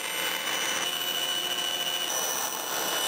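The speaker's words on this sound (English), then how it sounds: "I'm going to take this to the bandsaw." A bandsaw cutting wood for guitar sides, giving a steady, loud, hissing whine that holds constant throughout, close by and without any talk.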